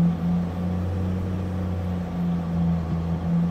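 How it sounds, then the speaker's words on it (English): A 12-valve diesel truck engine drones low and steady while hammering down a snowy road, a continuous hum with slight swells of revving and no talk over it. "Listen to that 12 valve."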